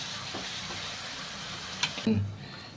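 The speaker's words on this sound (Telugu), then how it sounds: "ఇప్పుడు ఇలా వేసుకున్న తర్వాత ఒక 2 నిమిషాల పాటు ఇది వేయించుకుందామండి" Onions frying in a pan for gongura chicken give a soft, steady sizzle and hiss, ending in a brief clatter near the end of the short stretch, with no speech.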